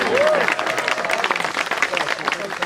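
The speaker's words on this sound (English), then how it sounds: "let's give her a round of applause" Audience applauding a guest at a bridge ceremony, a short burst of dense clapping from the crowd with voices mixed in, tapering off.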